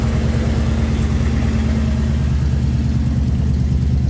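A 1996 Ford F-250 truck engine idles steadily after a header install, with a loud, even low rumble and a rapid, regular exhaust pulse throughout and no voices.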